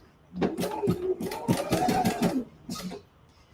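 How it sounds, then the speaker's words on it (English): A sewing machine stitching the side seam of a knit sleeve, set to 2.5 width and 3.5 length, running in a close, rapid mechanical burst for about two seconds, then briefly again after a pause. "let's sew a hem here. I'm sorry, a side seam of the sleeve."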